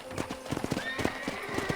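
In Red Dead Redemption, a horse on a ranch gives a sharp neigh over quick, irregular hoofbeats, close and loud, with a short burst of speech mixed in.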